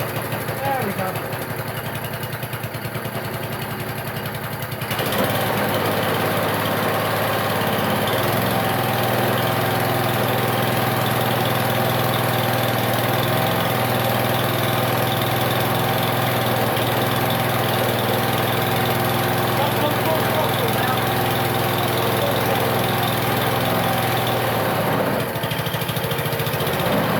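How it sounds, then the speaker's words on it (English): An old Tecumseh lawn mower engine that will not idle properly, running loud and close in a continuous steady drone, with the tone shifting slightly after a few seconds. "It's not idling. I suspect we've still got a problem with the idle circuit."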